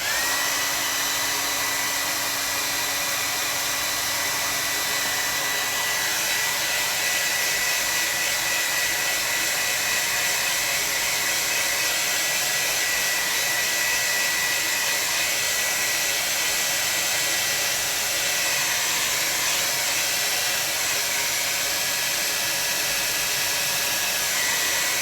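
A hair dryer runs steadily and loudly at close range to dry a gouache figure portrait study, a constant whooshing motor hum that holds for the whole stretch with no talking.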